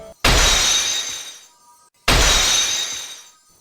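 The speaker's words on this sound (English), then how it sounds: "2 more of the psyche locks shatter." Two loud glass-shattering bursts about two seconds apart, each a sharp crash trailing off into tinkling debris, the psyche lock breaking effect from the Ace Attorney games, with no voices over it.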